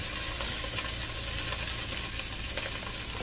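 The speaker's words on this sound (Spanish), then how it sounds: "así que lo voy a freír aquí todo junto" Garlic, chiles and epazote fry together in a pan, giving a dense, steady, close sizzle with faint crackles and no voices.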